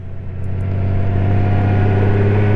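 A Honda Goldwing motorcycle cruising along a road, its engine giving a steady, loud low drone that builds slightly and holds, with wind noise over it.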